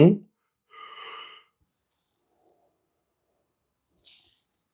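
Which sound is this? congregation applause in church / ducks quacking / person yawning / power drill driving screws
person yawning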